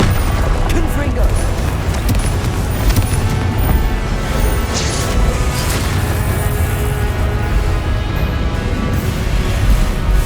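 Spell blasts and booming impacts erupt in the Hogwarts Legacy video game as Confringo fire-blast attacks are cast. Loud, dense bursts keep coming under game voices shouting spell names.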